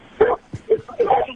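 A dog gives a few short, sharp yips and barks in quick succession, close and loud, with a small whimpering note between them.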